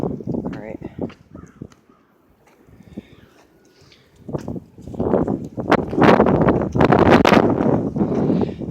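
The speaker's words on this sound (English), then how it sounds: "That's how strong the wind is." A strong wind storm gusts and roars across the microphone in heavy, surging bursts, building to a loud, continuous buffeting roar with debris noise, while a person talks at the start.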